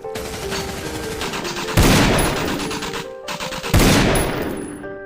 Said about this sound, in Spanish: Los disparos se escuchaban en el exterior